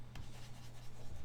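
A pen writes a math expression by hand, a brief faint scratching and rubbing on paper lasting about a second.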